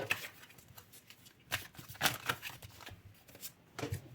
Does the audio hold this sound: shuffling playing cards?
yes